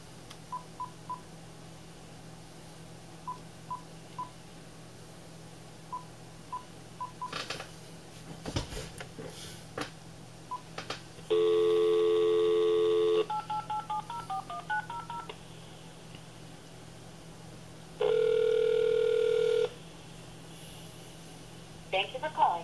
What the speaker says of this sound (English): it's going to be a phone call to MyLife.com